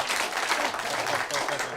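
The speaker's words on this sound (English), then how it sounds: "Yeah, clap." Studio audience clapping at a football talk show, a dense, loud burst of applause filling the whole moment.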